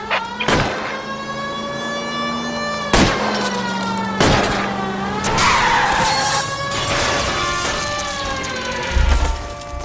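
Car chase in L.A. Noire with tires skidding and squealing in long tonal wails, sharp impact thuds from ramming, and siren-like whine under engine noise, loud and close.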